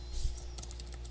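Someone types a username on a computer keyboard in short, quick bursts of clicky keystrokes, close and fairly quiet over a steady background hum.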